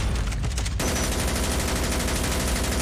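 A missile turret firing in Call of Duty: Mobile zombie mode, heard as a loud, continuous barrage of rapid, dense shots that starts suddenly and keeps going without a break.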